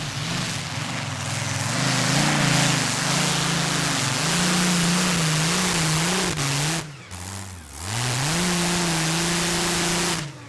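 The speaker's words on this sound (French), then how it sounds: "le moteur prend bien des tours" Competition tractor-pulling run on a Rolls-Royce engine, a loud, close, sustained roar that rises and wavers in pitch, cuts out briefly, then surges back to full power.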